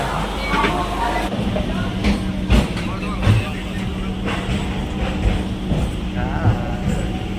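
Interior of a moving local train from Howrah to Rishra, with a continuous rumble of the carriage and occasional clunks and rattles, while passengers talk throughout.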